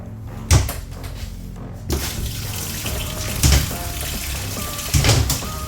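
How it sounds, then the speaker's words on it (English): A tap runs inside the cramped living quarters of a concrete pump truck, with a steady splash of water. Several louder knocks and clunks come through it, likely a cupboard or door. "Has running water, not warm."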